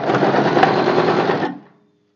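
A sewing machine runs steadily for about a second and a half while stitching tucks on a blouse, then winds down and stops. The buzz is close and loud, with no talking.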